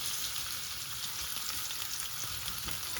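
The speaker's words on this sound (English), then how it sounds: "this is sizzling away a bit" Oil sizzles steadily in a pan for chicken tadka curry, a continuous bright frying hiss with faint crackles and occasional soft pops, no voices.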